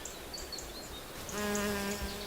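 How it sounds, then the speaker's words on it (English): Hornets buzz around the guarded entrance of their nest, with a continuous close insect drone that swells into a louder, fuller hum partway through as more fly in and out. "The entrance to the hornet's stronghold is under strict guard."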